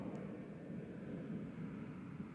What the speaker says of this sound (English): We're going to hold for the plane, folks.